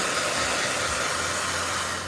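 A blow dryer runs steadily and close by, a loud continuous broadband whoosh with a low motor hum underneath, unbroken from start to finish.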